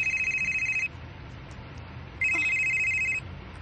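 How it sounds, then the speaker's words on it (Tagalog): A cellphone rings twice with a bright repeating electronic ringtone, each burst lasting about a second, separated by a quiet pause with faint room noise. "Ang akong cellphone."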